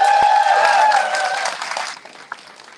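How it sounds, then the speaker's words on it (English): An awards-ceremony audience claps in a bright, full burst of applause that fades over about two seconds, ending with a few scattered claps. "Let's have another round of applause for Ashleigh."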